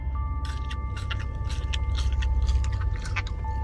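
Someone chews crispy McDonald's fries close to the mic, a run of quick crunchy bites and mouth sounds over a low steady hum, with no talk.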